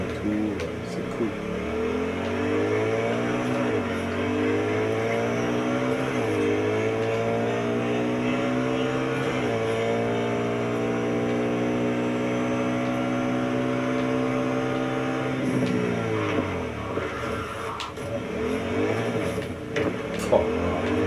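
Motorcycle engine in the video game Cyberpunk 2077 revving up and down through repeated gear shifts, a loud sustained whine with rising and falling pitch over roughly twenty seconds.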